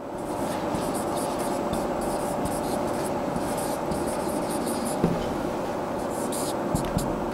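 A pen scratches out a Planck's law equation by hand in a heat and mass transfer lecture, with quick rhythmic strokes running steadily beneath a speaking voice.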